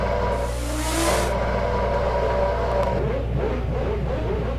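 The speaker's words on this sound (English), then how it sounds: "listen to that noise and tell me that's not a fast car." A racing car engine in Garry's Mod roars and revs at high pitch, loud and continuous, with a rising whine and a brief burst of hiss early on.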